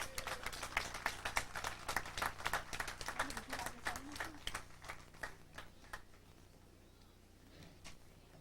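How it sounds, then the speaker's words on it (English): Applause from the audience at a park dedication in Dothan, Alabama: a scattered, moderately loud burst of hand claps that gradually thins out and fades over the final seconds. "I would like for y'all to give them a big round of applause"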